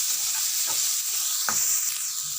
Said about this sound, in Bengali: টমেটো কুচি দিয়ে এটাকে কষে নেবো